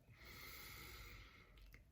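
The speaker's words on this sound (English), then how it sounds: "Now take a deep breath." A single slow, deep breath drawn in and let out, soft and close with a steady airy hiss lasting about two seconds; no talking.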